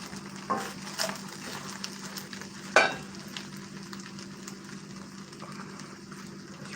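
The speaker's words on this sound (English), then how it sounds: "I can't forget to stir this around. That's the one thing that sucks about frying rice." Rice frying in a pan with a steady sizzle, interrupted by a few scraping stirs of a utensil, close by with no talking.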